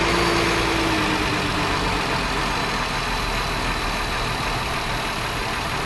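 A 2009 Volkswagen Touareg 3.6L engine with a lean condition idles steadily and loudly for several seconds, a constant low rumble with no revving and no voices.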